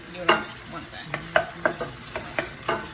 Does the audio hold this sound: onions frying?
yes